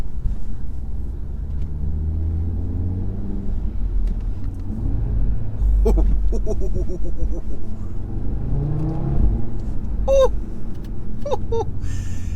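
An Audi RS3's engine rumbles low inside the cabin, then revs in rising and falling sweeps as the car accelerates, with a few sharp clicks and brief electronic chirps over the deep drone.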